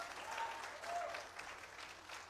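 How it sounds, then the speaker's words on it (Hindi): Seminar audience claps together, a short dense burst of applause that swells and dips slightly over two seconds, with nobody talking over it. "हाँ, ताली हो जाए।"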